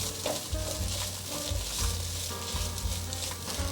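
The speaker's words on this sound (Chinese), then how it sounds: "现在把所有食材炒香" Shredded cabbage and king oyster mushrooms are stir-fried in a wok with a continuous close sizzle and hiss, joined by low scraping strokes of the spatula in a loose rhythm. Nobody speaks.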